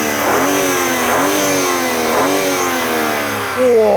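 A BMW M3 3-litre twin-turbo straight-six revs repeatedly, loud and close, with three rising blips of engine note before settling to a steady drone and a final sharper rev.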